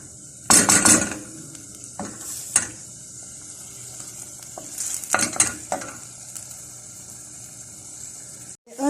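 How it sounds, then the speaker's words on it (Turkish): Onion and tomato paste being stirred in a pan on the stove for a chickpea and lamb neck stew: scraping, clattering spoon strokes in short bursts over a steady, quiet sizzle, with no talking. "Şöyle birazcık salçayla soğanı da karıştırıyorum. Birlikte birazcık pişiriyorum."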